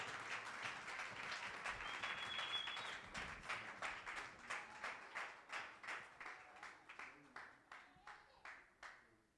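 A church congregation claps along together, starting as dense applause, then settling into steady rhythmic beats that gradually fade and slow toward the end.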